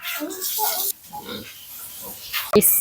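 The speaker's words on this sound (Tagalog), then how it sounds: "So, ang dami niyang baboy." Pigs grunt and oink in a lively pen, with a person talking over the animal noise and a sharp clatter near the end.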